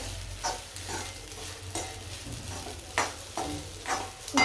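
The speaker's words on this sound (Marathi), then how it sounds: "आता ही खिचडी चांगली परतते" Khichdi with crushed peanuts being stirred and sautéed in a pan: soft scraping strokes of a spoon recur every second or so over a quiet, steady sizzle.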